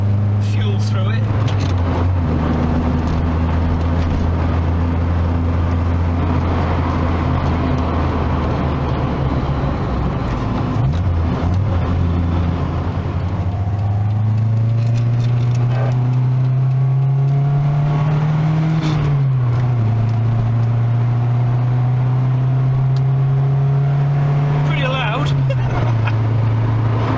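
A Nissan N13 Pulsar engine idles with a low steady hum, its revs sagging and dipping unevenly, wavering as if close to stalling, with talking over it.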